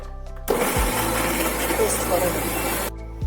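An electric blender whirs loudly and steadily for a few seconds, grinding medium-sized onion and tomato into a smooth, creamy paste for whole green moong dal, starting and stopping abruptly with faint background hum.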